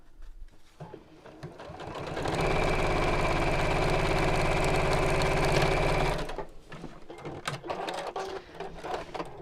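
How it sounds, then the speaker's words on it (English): A sewing machine stitches fabric purse pieces together across the top in one steady, loud run of a few seconds, its motor humming evenly, with quieter handling sounds before and after. "And sew them together across the top."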